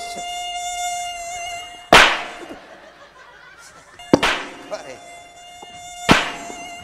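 A high, thin mosquito whine buzzes continuously during a Javanese comedy stage show, broken three times by sharp, loud bursts of noise, with faint laughter underneath.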